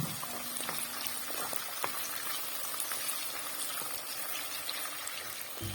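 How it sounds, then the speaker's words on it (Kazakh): Onion fries in oil in a pot for cabbage rolls, giving a steady, dense sizzle and crackle that holds at an even level throughout, close by and with no talking. "қазанымызға май құйып, жуамызды салып, қуырып аламыз"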